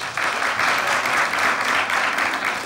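Studio audience applause on a Turkish television comedy show, a steady broad clatter of many hands clapping close and loud for nearly three seconds with no talk over it.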